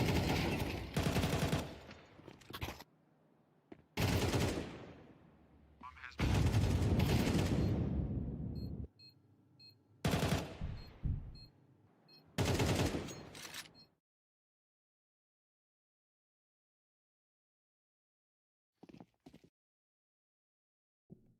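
Bursts of AK rifle fire in a Counter-Strike match play as several loud, rapid volleys separated by short pauses, followed by near silence and a few faint distant shots.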